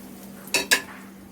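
A spoon stirring spices with a bay leaf and cinnamon in tempered oil, two quick scraping strokes against the pan over a quiet background.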